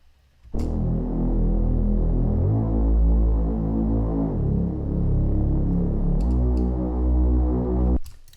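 Deep respace sub-bass synth for a slap house remix, played alone as a sustained, droning low tone with its pitch shifting in a few steps over about eight seconds, loud and close.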